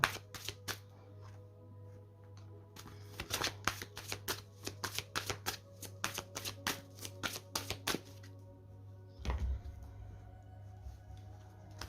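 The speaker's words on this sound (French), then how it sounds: "On va commencer par poser les cartes de l'autre." Tarot cards snap and flick as they are shuffled and laid down on a table, in a quick irregular run of crisp clicks over a faint steady hum, quiet and close, without any speech.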